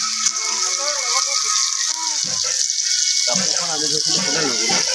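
Meat and potatoes sizzle in a wok over heat, a steady bright frying hiss close to the microphone, with a voice talking over part of it toward the end.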